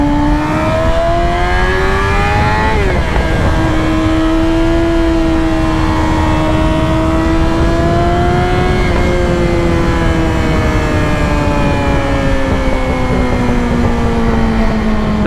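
High-revving engine of a liter-class sport motorcycle being ridden, a loud continuous drone whose pitch climbs and shifts through gear changes at about 3 and 9 seconds, with no talking over it.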